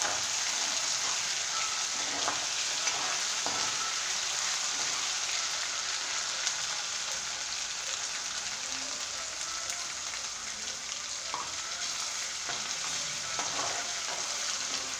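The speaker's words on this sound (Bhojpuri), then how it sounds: "देखिए अच्छे तुरंत डाल के चलावल जाए, नहीं तो कढ़ाई में लहसुन जौन होला थोड़ा सा पकड़ लेला।" Garlic frying in a kadhai while being stirred, a continuous dense sizzle with occasional scraping clinks from the spoon, steady throughout and without talk.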